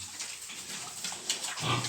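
Young piglets grunt and snuffle close by while dry milk and starter feed are poured out for them, short soft grunts over rustling.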